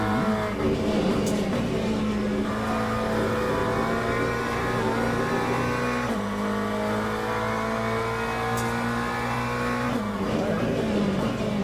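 McLaren GT3 race car engine in the Le Mans Ultimate sim racing game at Sebring, a loud steady roar that climbs through the revs and drops at each gear shift, with a commentator talking over it.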